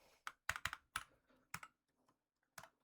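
Keys clatter on a computer keyboard as a pip install command is typed, a quick burst of close, crisp strokes followed by a few spaced taps, with no voices.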